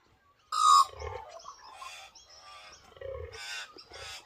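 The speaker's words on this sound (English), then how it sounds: "these fucking birds have just landed in the trees only just after sun up" A flock of birds calls from the trees just after sunrise in the Australian bush, with loud, harsh, raucous cries repeating in bursts close by.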